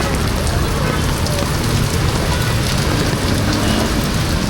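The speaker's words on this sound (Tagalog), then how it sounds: "walang tigil ang ulan." Heavy rain pounding continuously, a loud unbroken wash of noise close by, during flooding on Roxas Boulevard in Manila.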